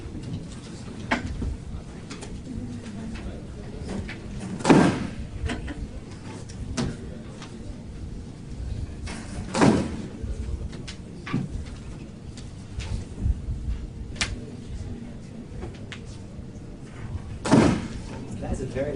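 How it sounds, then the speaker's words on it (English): A heavy lecture room door bangs loudly three times at fairly even intervals, each a sharp thud standing out over quiet room noise and faint murmuring as people settle in. "That's a very loud door."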